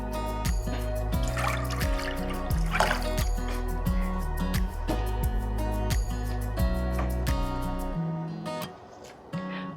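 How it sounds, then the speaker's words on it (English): Cool water is poured into a clean, shallow bowl, making a soft trickle and splash beneath steady background music, which drops away near the end. "next I'm going to pour some nice cool water"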